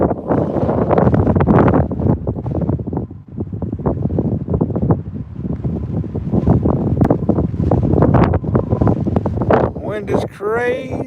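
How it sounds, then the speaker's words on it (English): Strong, gusty wind buffets the microphone outdoors on a trout fishing trip, a loud continuous roar with rushing surges, while a person talks under it. "It is nasty out this morning, y'all. Wind is crazy."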